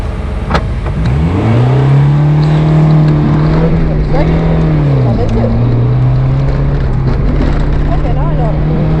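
A car accelerating hard on an SCCA autocross course in Moultrie, Georgia, its loud close engine note rising steadily through the gears, dipping briefly at a shift and climbing again, with talk inside the car.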